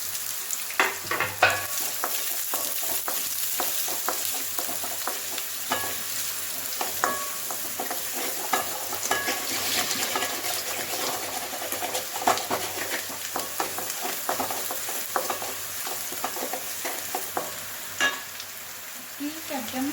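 Onions frying in hot oil in a pan while fried rice is cooked: a steady, dense sizzle with scattered crackles and occasional stirring clicks, close and fairly loud throughout, with no clear talk.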